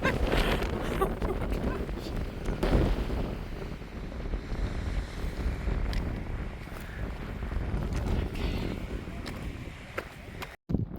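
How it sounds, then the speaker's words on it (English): Strong wind buffets the microphone on the open Roan Highlands summit along the Appalachian Trail, a loud, continuous roaring rumble with gusty surges. "It's a little breezy up here."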